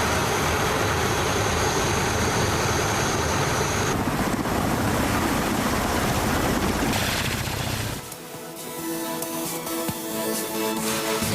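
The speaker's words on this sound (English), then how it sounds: "The video on your screen shows Russia's military helicopters in action and attacking Ukraine's facilities." Russian military helicopters attacking facilities in Ukraine, a loud steady rotor roar and engine whine that continues for several seconds, then drops to a lower, rougher rumble with a faint tonal hum.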